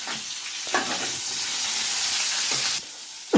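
Tomatoes frying in hot oil for a wild gongura chutney, a steady close sizzle and hiss broken by a few brief stirring clatters.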